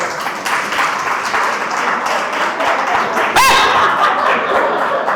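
Audience at a comedy show in Zambia clapping and applauding in a dense, sustained wash of hands, loud and close, with a brief squeaky chirp partway through.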